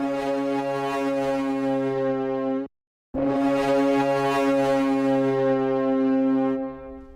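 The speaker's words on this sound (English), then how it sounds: "Soundtoys Devil Lock. How to describe it? It is sort of like a very destructive compressor." Brass from an orchestral film score crushed through a Soundtoys Devil Lock destructive compressor: a loud, dense, blaring sustained chord that cuts off abruptly, pauses briefly, then slams back in and holds before tailing off.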